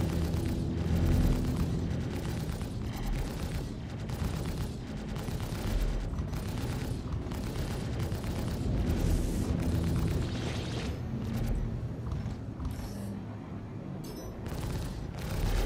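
Ship weapons in the space game Star Citizen fire in rapid repeated bursts, with dense booming blasts running throughout and a few brief pauses near the end.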